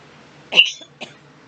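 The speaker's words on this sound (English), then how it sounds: "It's giving me a cough." Two short, sharp coughs close by, a louder one followed about half a second later by a smaller one, with quiet room tone around them.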